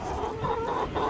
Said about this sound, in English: so those are our chickens.